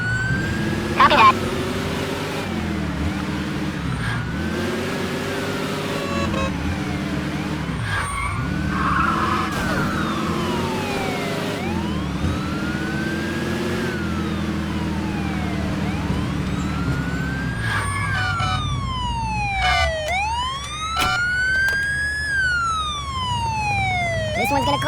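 Wailing police siren during a car chase in Mafia 2, rising and falling continuously over engine noise and tyre skids, with a second siren joining near the end.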